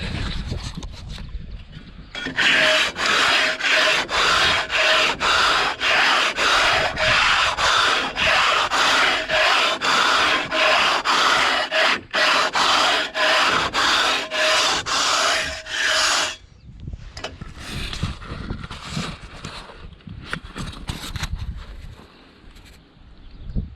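A hand rasp scrapes across an aerated concrete block in fast, even back-and-forth strokes, a loud gritty rasping rhythm sustained for about fourteen seconds before fading into softer scraping and handling noise.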